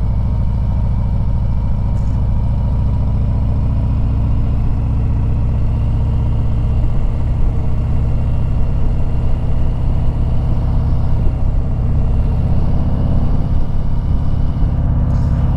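A liquid-cooled 2019 Harley-Davidson Sport Glide motorcycle engine runs steadily and loud at close range, a continuous low rumble riding through a downtown street with no talk over it.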